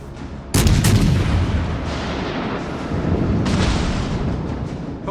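Warship guns fire HE shells in the naval game World of Warships Legends, a loud booming blast followed by rumbling, with a second heavy report a few seconds later, close and alone without talk.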